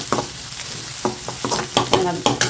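Onions sauté in a pan for a capsicum egg stir-fry, sizzling steadily while a spoon scrapes and stirs in repeated sharp strokes, close and fairly loud with no talk.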